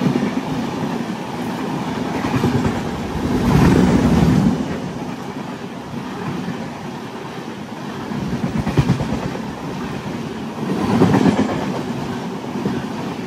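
A MEMU train runs steadily along the rails, a continuous rumble with rhythmic clickety-clack of wheels over joints, swelling louder in a few surges, heard from inside the carriage with no talk.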